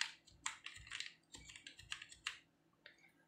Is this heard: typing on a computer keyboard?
yes